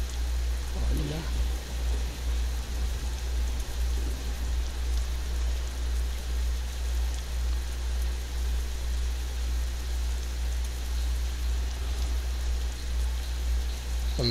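Rain pours steadily in Euro Truck Simulator 2 with a realistic rain and thunder weather mod, an unbroken hiss over a deep engine hum, with a short low rumble early on.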